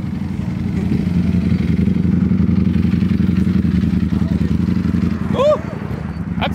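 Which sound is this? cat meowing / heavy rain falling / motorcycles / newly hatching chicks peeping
motorcycles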